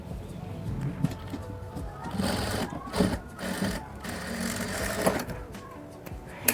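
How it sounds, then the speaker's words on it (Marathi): A sewing machine runs a press stitch along the folded edge of a katori blouse, a steady close whir with short breaks between runs. "आता ही दाब शिलाई आपल्याला ह्या साईडनी द्यायची"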